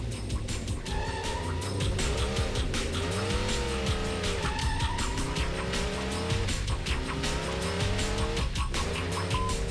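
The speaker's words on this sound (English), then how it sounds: "There's a number on the side of this car. It's going to race by 3 times." A race car roars past repeatedly, its engine loud and continuous with rising and falling pitch as it sweeps by, accompanied by tire squeal and skidding.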